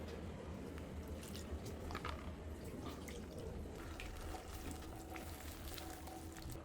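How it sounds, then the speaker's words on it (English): Pasta water poured into a pan already holding onion, garlic and cooking cream gives a soft, steady sizzle and splashing, faint and close with no talk. "And I'm going to add the pasta water."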